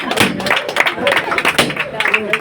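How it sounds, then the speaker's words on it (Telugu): Hands clapping together at a church Sunday school gift-giving gathering, a steady patter of applause from a small group, close and moderately loud with voices mixed in. "చప్పట్లు."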